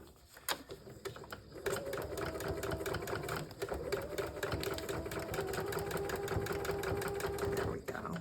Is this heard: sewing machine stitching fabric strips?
yes